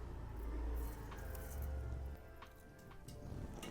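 Mustard seeds crackle in hot oil while tempering a wild-vegetable dish, sparse faint pops and ticks scattered over a low steady hum, growing busier toward the end.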